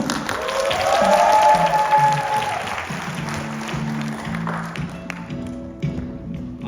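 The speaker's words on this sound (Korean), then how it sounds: "무대 위로 올라오실 때 큰 박수 부탁드립니다." An audience at a lecture event applauds as a speaker walks onto the stage. The dense clapping is loudest at first, then thins and fades under a few sustained musical tones.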